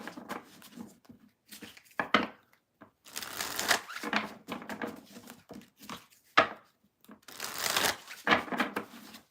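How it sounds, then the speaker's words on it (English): A tarot deck shuffled by hand in repeated bursts of riffling and slapping cards, close and fairly loud, with short pauses between shuffles and no talking. "Only 3 more decks to shuffle."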